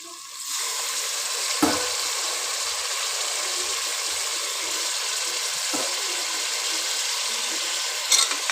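Mutton and tomatoes sautéing in a pressure cooker, a steady loud sizzle with a few spatula knocks against the pot, close and without voices.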